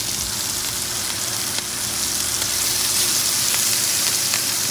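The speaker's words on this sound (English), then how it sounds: "And continue sauteing my mushrooms." Mushrooms and thyme sautéing in butter in a cast iron pan give a loud, dense, continuous sizzle that holds steady from start to finish with no talking.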